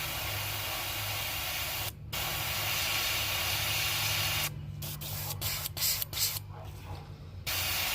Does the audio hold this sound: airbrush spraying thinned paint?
yes